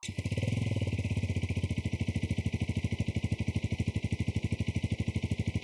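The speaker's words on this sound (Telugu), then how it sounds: "ఒకసారి ఈ బైక్ సౌండ్ బీట్ ఎలా ఉంటుందో చూద్దాం." A TVS RTX 300 motorcycle engine idles alone, its exhaust beating in a fast, even, steady thump that stays close and constant throughout.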